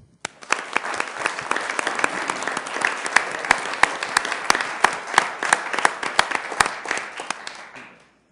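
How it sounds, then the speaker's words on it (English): A room at a Sioux Falls city council meeting fills with steady applause, many hands clapping for several seconds with sharp individual claps standing out, before it stops abruptly. "Let's give Joel and his family a round of applause"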